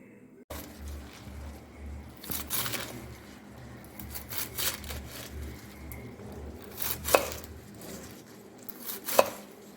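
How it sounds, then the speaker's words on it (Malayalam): Cheera (amaranth leaves) being chopped with a knife on a board for cheera manga thoran, a run of soft, close, irregular cuts and taps with a couple of sharper knocks. "ഇതിന് ആവശ്യമുള്ള ചീര ആദ്യം മുറിച്ചെടുക്കുക"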